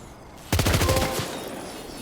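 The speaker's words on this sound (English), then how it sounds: "I'm blasting it with a different type of gun." Rapid burst of automatic gunfire in Death Stranding 2, loud and close, starting abruptly and then trailing into a rumbling echo, with no talking.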